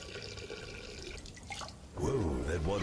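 Water sloshes and gurgles in a toilet in the Duke Nukem Forever video game, rising louder near the end, with a voice talking over it.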